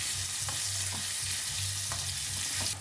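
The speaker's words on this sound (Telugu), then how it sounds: "చాలాసేపు కాదు, ఒక 2 మినిట్స్ వేయించుకోండి" Amla (Indian gooseberry) frying lightly in a pan, a steady soft sizzle with a few faint clicks of stirring throughout, no voices.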